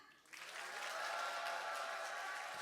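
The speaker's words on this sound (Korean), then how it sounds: "박수는 큰 소리로, 박수는 크게." A roomful of people at a church family revival service bursts into applause after a brief pause, the clapping rising quickly and holding steady and full for a couple of seconds.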